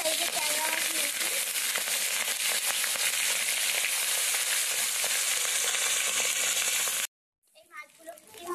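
Large tangra fish fry loudly in hot oil in a wok, a dense close crackling sizzle that runs steadily, then cuts off abruptly before a quieter return near the end.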